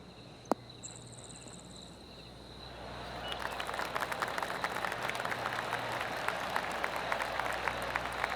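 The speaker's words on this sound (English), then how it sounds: "Oh, golf clap." Golf crowd in PGA Tour 2K24 at the John Deere Classic breaks into soft, scattered applause after a quiet pause, the patter of clapping swelling and holding steady in the background.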